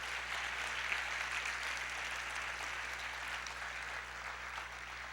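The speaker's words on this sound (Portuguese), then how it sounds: "Vamos aplaudir ao Senhor, se expresse." A church congregation keeps up steady, continuous applause for the Lord, a broad even wash of many hands clapping at moderate volume with a low hum underneath.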